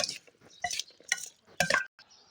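Pork larb is scooped into a bowl in four or five short, scraping clinks of utensil against dish, close and fairly quiet, each separated by brief pauses.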